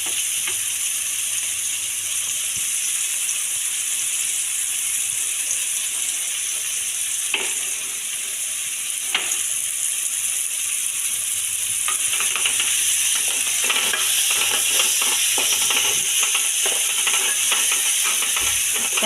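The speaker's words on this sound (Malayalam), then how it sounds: "നമ്മളെ ഫിഷ് ഫ്രൈ അവിടെ നിന്നാവുന്നുണ്ട്" Fish pieces frying in a pan of hot oil give a steady, bright sizzle throughout, growing denser and louder in the later part, with a few light clicks of utensils.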